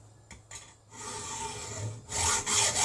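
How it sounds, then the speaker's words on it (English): A hacksaw cuts through a motorcycle exhaust pipe. A few tentative scrapes come first, then a steady, loud rasping saw stroke builds close up with nobody speaking. "So right, get the hacksaw,"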